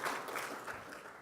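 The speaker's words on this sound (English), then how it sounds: "Clap, clap, clap." Audience applause at El Segundo's 2015 State of the City event, a fairly quiet, steady patter of many hands clapping for just over a second, sounding somewhat distant in the room.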